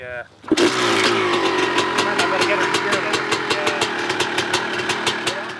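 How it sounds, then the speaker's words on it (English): An old motorcycle that had sat idle for ten years fires up after a brief quiet start, then runs steadily with repeated throttle blips and revs, loud and close throughout. "So we got the bike started. It sounded so crisp and clean."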